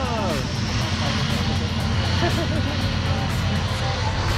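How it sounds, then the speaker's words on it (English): Propeller airplane engine droning as it approaches on a skydiving airfield before a tandem jump, a steady rising hum with people talking close by over it. "here comes the airplane"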